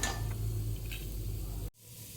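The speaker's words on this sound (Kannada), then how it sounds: "ಪುಟಾಣಿನೂ ನಾನು ನೀಟಾಗಿ ಫ್ರೈ ಮಾಡ್ಕೊಳ್ತಾ ಇದ್ದೀನಿ" Roasted gram (putani) frying in a pan, a soft steady sizzle close up that cuts off abruptly near the end, leaving a quiet hiss.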